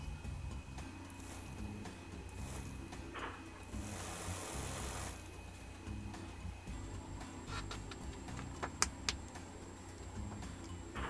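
A small battery-powered electric motor salvaged from an electric shaver runs with a faint, steady whirring hum and light ticking, quiet and close with no talking.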